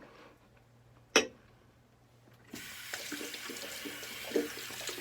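Water runs steadily from a tap for wet shaving, starting abruptly after a sharp knock and a quiet pause, then continuing as a close, even splashing stream.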